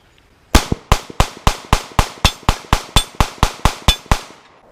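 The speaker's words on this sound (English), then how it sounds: "Just dump this magazine as fast as I can at the silhouette target" Rapid fire from a S&W Model 5906 9mm pistol at a range, about fourteen sharp, loud shots in quick even succession, each with a short ringing tail.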